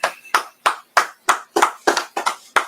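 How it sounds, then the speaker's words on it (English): People clap in a steady, slightly uneven rhythm, about ten loud, close, sharp claps with short gaps between them. No talk is heard. "Clap it up."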